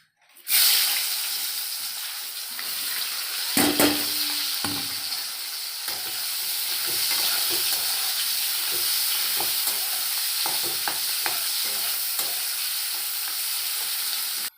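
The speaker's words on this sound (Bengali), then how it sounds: "পেঁয়াজগুলো ভেজে নেব।" Onions frying in hot oil for kacchi biryani give a loud, continuous close sizzle with occasional clinks and stirring knocks against the pan.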